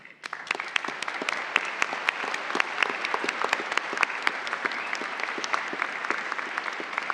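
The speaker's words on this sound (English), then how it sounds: "Please join me in a round of applause for Miss Beverly O'Connor" An audience at a Swinburne graduation ceremony applauds, dense and sustained clapping from a large crowd filling the hall for several seconds without any voices.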